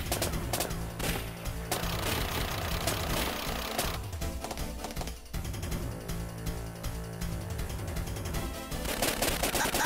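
Rapid gunfire from the Time Crisis arcade shooting game, dense rattling bursts of shots mixed with loud game music and effects, continuous and loud throughout.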